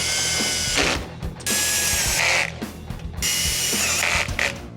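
A tool clicks and whirs against the plastic undercover fasteners beneath a 2023 Honda Accord, in three close, sustained mechanical bursts separated by short pauses, with no talking.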